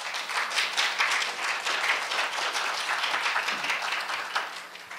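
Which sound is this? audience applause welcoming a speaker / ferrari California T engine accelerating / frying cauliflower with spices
audience applause welcoming a speaker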